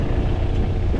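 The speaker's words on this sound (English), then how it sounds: "Oh, the wind, I don't know how that's going to sound" Wind gusts buffet the microphone outdoors during garden work with mulch and a machine, a constant low rumbling roar that stays loud and steady throughout with no voices.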